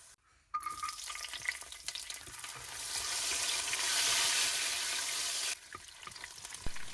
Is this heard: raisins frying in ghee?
yes